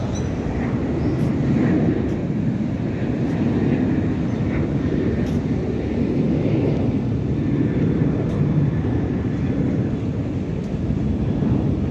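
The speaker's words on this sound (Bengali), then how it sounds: "দেখেন বিমানটি ফ্লাই করলো।" Airplane taking off at Dhaka's Hazrat Shahjalal International Airport, a steady, loud broadband engine roar that holds without letup from start to end, with no voices.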